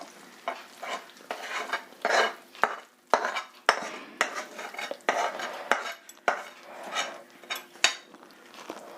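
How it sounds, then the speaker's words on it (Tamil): Mysore pak, a hard gram-flour sweet, being scraped out of a pan onto a plate: repeated close metal scrapes and clinks of a spatula in quick, uneven bursts, with no talk. "நான் இதை இப்போ பிளேட்டில் மாற்றிக்கிறேன்."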